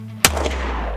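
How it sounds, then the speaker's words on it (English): One sharp, loud gunshot from a Kel-Tec P15 pistol fitted with an extended full-size magazine, a sudden crack followed by a short decaying echo. "Let's go ahead and put a couple rounds with the full-size magazine and see how she feels."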